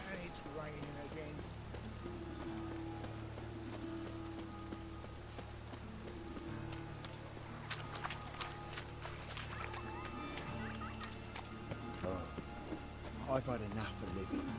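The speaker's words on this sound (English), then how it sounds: "It's raining again." Rain falls in the video game The Witcher 3, a soft steady patter of drops on surfaces mixed with low tonal game music and occasional faint clicks, fairly quiet throughout.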